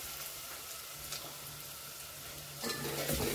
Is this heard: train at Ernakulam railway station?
no